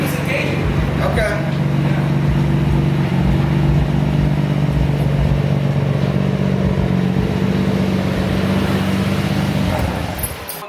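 A Nissan R33 GTR drives along with its engine running, a loud steady low drone with constant road rumble from inside the car, easing slightly near the end.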